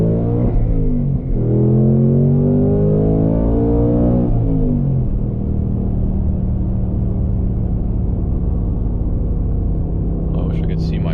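A 2026 Ford Mustang GT set to track mode accelerates with a rising engine note heard from inside the cabin. After a few seconds it eases into a steady low rumble of driving, with a brief voice near the end.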